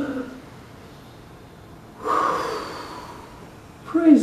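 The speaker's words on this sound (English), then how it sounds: "let's take a big old cleansing breath" During a church service, a congregation draws a deep cleansing breath together, heard as one broad, airy whoosh swelling midway and fading out. A short vocal sound follows at the end over the quiet hall.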